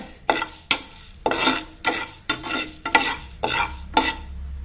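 Chillies sizzle and scrape in a hot pan, stirred in about eight steady, regular strokes, close by with no talking.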